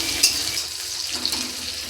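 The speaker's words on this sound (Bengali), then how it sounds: "এবার দিয়ে দেবো একটু পেঁয়াজ, পেঁয়াজটাকেও নাড়াচাড়া করতে থাকবো।" Onions are stirred and fried in a pan with a soft, steady sizzle close by. Light scraping and a small clink or two from the utensil break up the hiss.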